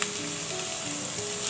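Cumin, red pepper and black pepper fry in hot oil, making a steady close hiss and crackle for a brief moment, with no talking.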